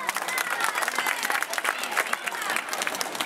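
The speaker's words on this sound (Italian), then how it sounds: "Un applauso alla corda." Dense audience applause fills a live outdoor magic show at an African music festival in Novi Ligure, Italy, with many hands clapping steadily and loudly, a bright crackling wash without pause.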